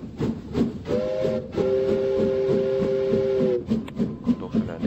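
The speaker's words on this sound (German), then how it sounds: "Kommt doch schon der nächste Zug." A steam train whistle sounds as a train arrives in the video game Train Station, giving a sustained two-note blast of a few seconds over rhythmic chugging and hissing steam.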